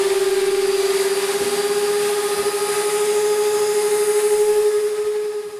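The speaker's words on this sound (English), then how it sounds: "That's the wet and dry. You can use it obviously to suck wet stuff up and dry" A wet and dry vacuum sucks up a filthy bathroom mess, its motor holding a loud, steady whine with a constant tonal hum and airy rush from start to finish.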